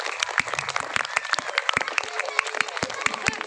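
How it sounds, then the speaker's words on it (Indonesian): Audience applause at a farewell gathering for a retiring school teacher, a mid-sized crowd clapping steadily with sharp individual claps standing out throughout. "Tepuk tangannya mana?"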